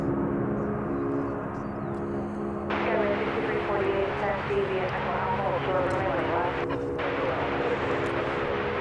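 American Airlines Airbus A321 jet taking off at DFW airport, a steady engine roar swelling louder partway through, heard from a distance under continuous talk.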